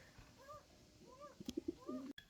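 A pair of cream Lahori pigeons cooing softly on a pigeon farm, with a few low, rolling coos and throaty pulses, fairly faint and close, with no talking.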